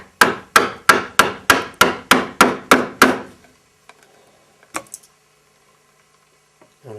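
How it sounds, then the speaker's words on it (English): A chisel is struck with a mallet, chopping straight down into wood on a workbench: ten sharp, evenly spaced knocks in quick succession, then a pause with a couple of faint taps and clicks. "if I now place the chisel for the next cut and then chop down"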